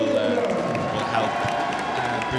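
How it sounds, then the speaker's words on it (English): A home crowd at a women's recurve team archery bronze final between Germany and Great Britain, cheering and applauding as a steady, dense roar with scattered whoops, with talk over it. "I think you can already hear the crowd"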